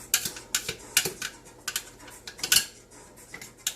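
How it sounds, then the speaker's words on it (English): Rubber spatula scraping and tapping around the sides of a food processor bowl while making basil pesto, a run of sharp, irregular clinks and scrapes, close and moderately loud, with no talking. "Take like a rubber spatula and just scrape the sides."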